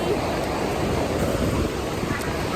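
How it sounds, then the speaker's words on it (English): Strong wind gusts on a beach against a microphone and mix with crashing surf in a constant, loud roar. Nothing else stands out from the blustery wash. "it's pretty windy"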